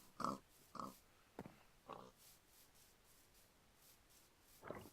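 Pigs in the video game Minecraft give several short, nasal oinking grunts, spaced irregularly and fairly near, with one more grunt after a quiet pause.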